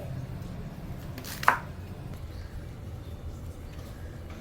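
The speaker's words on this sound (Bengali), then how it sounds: "খুব ভালো করে কুচিয়ে নিতে হবে" A knife chops red amaranth greens on a board in one sharp, close cut standing out over a low steady background hum, with no speech.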